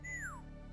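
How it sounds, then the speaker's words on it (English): A single short whistle from a character in the video game Owlboy, a faint bright tone gliding downward over a low steady game soundtrack hum. "You can whistle?"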